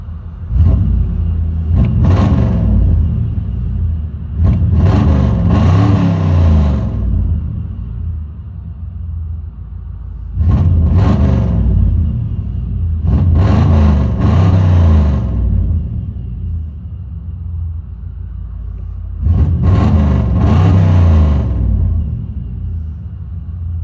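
A deep V8 engine rumble heard from inside a 1992 Chevy 1500 pickup with a 5.0L 305 and true dual straight pipes, swelling into four loud revving bursts with steady idling between them.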